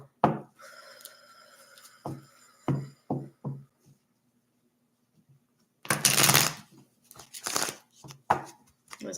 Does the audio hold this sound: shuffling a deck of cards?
yes